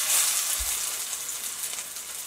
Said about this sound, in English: we're gonna fry them up, and we're gonna use our Birmingham 10-inch skillet that we found